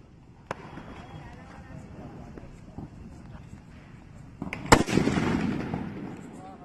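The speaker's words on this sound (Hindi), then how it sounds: "सेलबम को जला के देखते हैं हमारा सेलबम कैसा चलता है।" A Diwali selbam firecracker is lit outdoors, with faint crackling and scuffs before one sharp loud bang near the end and a short noisy burst of crackling after it. Background voices murmur throughout.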